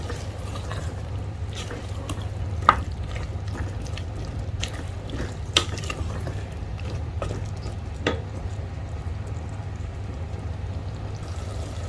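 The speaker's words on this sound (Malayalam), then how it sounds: "എല്ലാം കൂടി ഇളക്കി യോജിപ്പിച്ച് കൊടുക്കുകയാണ്." A spoon stirs Kerala-style butter sambar in a pot, making soft wet sloshing with occasional light taps against the pot, all under a steady low hum.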